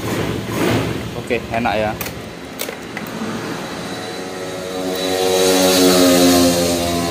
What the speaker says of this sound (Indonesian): Di sini saya coba starter, double starter ya.